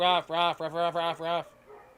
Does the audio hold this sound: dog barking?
yes